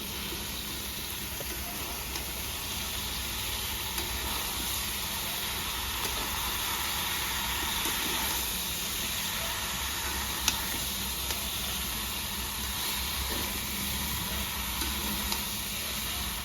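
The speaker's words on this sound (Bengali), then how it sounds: "তো 4-5 মিনিট আমি ভালো করে ফুলকপি আলু একসঙ্গে কষিয়ে নিয়েছি।" Cauliflower and potatoes sautéing in a pan with spices such as Kashmiri chilli powder and black pepper keep up a constant, dense sizzle and hiss for the whole stretch, with faint occasional stirring ticks and no talking.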